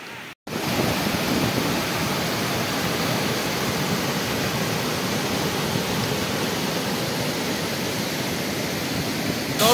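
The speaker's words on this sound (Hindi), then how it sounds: "ये रहा कोलतंबे वाटरफॉल।" Koltembe waterfall at Bhandardara gives a steady, loud rushing roar of falling water that fills the whole scene, broadband and unbroken from start to finish.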